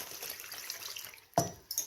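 Water splashing into a pot of rolled grape leaves, a short burst of pouring after a quiet moment followed by a second smaller splash, close and clear.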